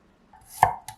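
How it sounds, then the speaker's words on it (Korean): A knife slices thinly through garlic cloves on a cutting board for a warming breakfast stir-fry, with one crisp, close chop followed by a lighter second tap, isolated and without speech. "몸을 따뜻하게 해주는 마늘은 얇게 슬라이스하고 웍에 넣을게요."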